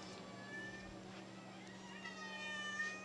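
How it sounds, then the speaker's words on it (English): Hungry cats meow faintly in a workshop where an air raid siren is being restored, soft drawn-out calls over a steady low hum with a voice nearby. "Hungry kitties."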